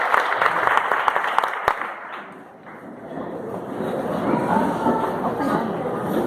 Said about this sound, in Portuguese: Vamos aplaudir os professores.